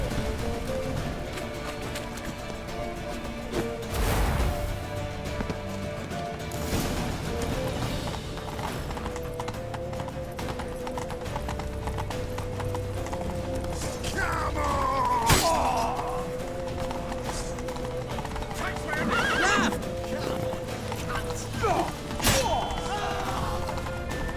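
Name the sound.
horse galloping and neighing, video game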